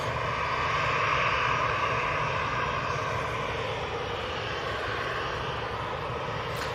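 EasyJet airliner engines run during pushback at Manchester Airport, a steady broad roar with whining hiss heard from a distance, constant and unbroken with no talking.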